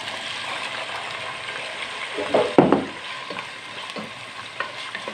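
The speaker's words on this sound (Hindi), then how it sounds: "ये आलू हमने इसमें डाल दिया है, घी में डाल दिया है" Cubed potatoes fry in ghee in a pot with a soft steady sizzle, broken midway by a few louder stirring clatters and scrapes.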